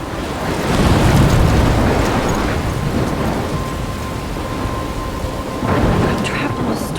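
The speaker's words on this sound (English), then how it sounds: "I'm trapped in a storm?" Thunderstorm in the video game Life Is Strange, with steady heavy rain, a low rolling thunder rumble, and another swell of thunder near the end, loud and enveloping.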